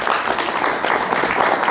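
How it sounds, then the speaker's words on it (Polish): A seated concert hall audience gives a steady wash of applause, many hands clapping continuously at an even, fairly loud level without voices. "Duże brawa na nich."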